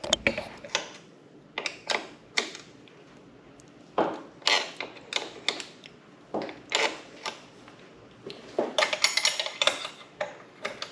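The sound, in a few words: wrenches tightening adjuster and lock nut on KLX110 dirt bike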